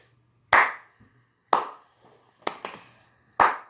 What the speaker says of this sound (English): you're going to get a slow clap on that one right now